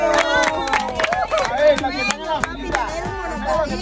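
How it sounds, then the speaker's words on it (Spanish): A group of children and adults clap and cheer for a boy who won a scooter prize, scattered sharp claps over lively overlapping voices and chatter, close and continuous. "¡Un aplauso para su amigo!"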